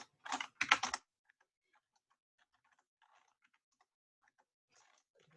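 A short, close burst of computer keyboard typing, a quick flurry of key clicks lasting about a second, followed by near silence with faint scattered ticks.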